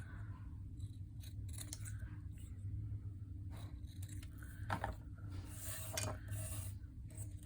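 Scissors cutting paper while making a funky journal pen, a series of faint, crisp snips and slicing rasps spread over several seconds, quiet and close against a low background hum.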